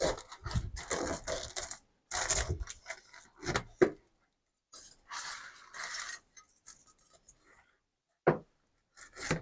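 A knife cuts produce right down the middle, with the stalk through the leaves, for a Hawaiian teriyaki chicken dish: a series of close crisp slicing and crunching bursts, a few isolated chops, then quiet gaps.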